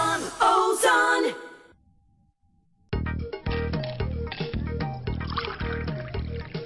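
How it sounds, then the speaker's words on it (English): Glen Hunter Scotch whisky poured over ice in a glass, with a clinking start, a brief pause, then a steady close liquid pour with small ice knocks, heard alone. "pour yourself a Glen Hunter Scotch whiskey and enjoy the taste on the rocks"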